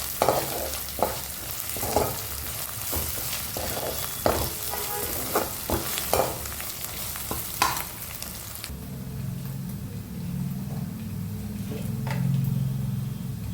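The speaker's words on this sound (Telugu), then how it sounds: "నేను వన్ టేబుల్ స్పూన్ అల్లం వెల్లుల్లి పేస్ట్ వేసాను ఇవన్నీ పచ్చివాసన పోయేంత వరకు మనం మగ్గించుకోవాలి" A tablespoon of ginger garlic paste fries in a pan for a garelu pulusu, with close crackling sizzle and repeated scraping stirring strokes, then the stirring stops and a calmer, steady frying hiss carries on.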